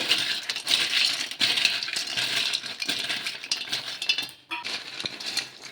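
Crunchy homemade oats kurkure tossed with chat masala and coriander powder in a bowl: a close, continuous dry rattling and clattering of the pieces, with a brief lull near the end.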